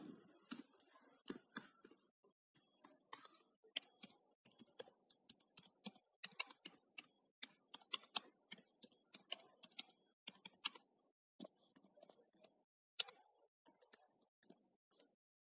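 Someone types on a computer keyboard, a close run of quick, uneven key clicks in short bursts separated by brief pauses, with no talking.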